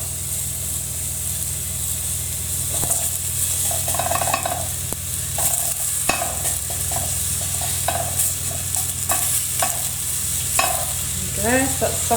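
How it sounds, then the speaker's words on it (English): Onion fries in hot oil in a pan, a steady close sizzle with repeated scraping and stirring strokes throughout and a few brief hissing flares near the end. "I've heated up some oil in this pan, and I'm going to add my onion to fry off now."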